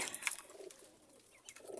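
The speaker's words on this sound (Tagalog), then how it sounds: "Ito po ang aming mga kalapate." Pet pigeons coo softly nearby in a backyard coop, a few low murmuring calls with faint rustling and no talk.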